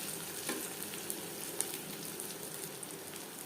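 Fish pieces in spiced batter fry steadily in hot oil, with a soft, even crackle and sizzle at close range and small pops scattered throughout.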